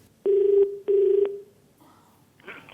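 Two loud telephone rings sound in quick succession on the set of the Indian game show Kaun Banega Crorepati, each a steady trilling tone with a short gap between, followed by faint background voices.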